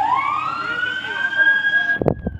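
Ambulance siren sounding steadily at a motorcycle and taxi crash scene, loud and close, holding one sustained wail before cutting off, followed by a couple of thumps and brief noise.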